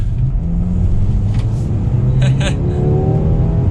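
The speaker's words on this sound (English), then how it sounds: "take this U-turn here and give it a little bit of gas in normal mode" A 2021 Mercedes-AMG GLA 35 SUV with a turbocharged four-cylinder pulls out of a U-turn under light throttle in normal mode, its engine rumbling steadily and climbing in pitch as road noise builds over about four seconds.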